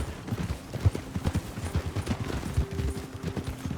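Horse hooves clip-clop steadily on ground in Red Dead Redemption 2, a close, moderately loud uneven trot of soft thuds with a faint tonal hum underneath and no talking.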